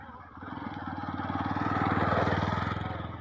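A motorcycle engine drones steadily beside a flooded river near an overflowing dam, growing louder as the bike rides closer and passes.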